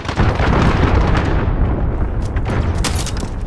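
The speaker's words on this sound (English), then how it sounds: "Allied cruise missile launch." Cruise missile strike in Call of Duty: a loud, rumbling explosion that rolls on for several seconds, with crackling debris and scattered pops scattered through the roar.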